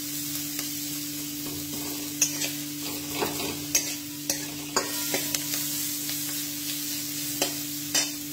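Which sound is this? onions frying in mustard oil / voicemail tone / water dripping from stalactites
onions frying in mustard oil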